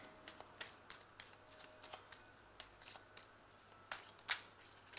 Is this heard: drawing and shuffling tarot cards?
yes